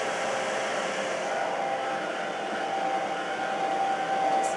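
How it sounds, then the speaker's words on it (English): A blow dryer fitted with a diffuser drones loudly and steadily at close range while drying scrunched hair, its even whooshing hum continuing without a break. "I kind of shake the blow dryer back and forth just a tiny bit."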